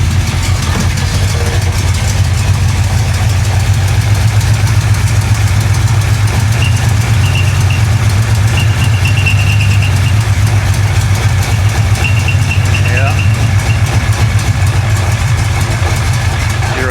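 A flood-damaged 1966 Chevrolet Impala engine idles with a loud, steady low rumble that holds evenly throughout, with no voices over it.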